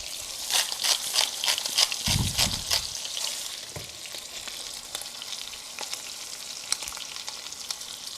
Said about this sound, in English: So as you're browning your pork